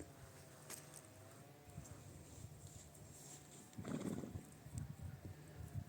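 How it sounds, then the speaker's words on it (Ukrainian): Large, strong Belgian draft mares nearby: hooves clopping on the ground and a neigh breaking out, with soft background noise throughout. "Кобили великі, сильні фест."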